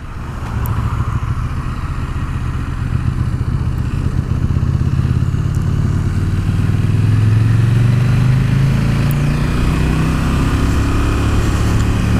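KTM 1290 Super Duke R motorcycle engine pulling hard on the road, a steady loud roar with a rising pitch as revs climb, continuous and close with wind rush throughout.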